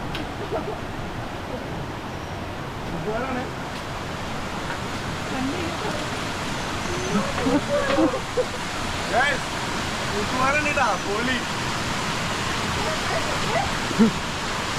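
Steady broadband rush of water at Ezharakund waterfall fills the scene continuously, with people talking over it and a few brief louder voices and splashes.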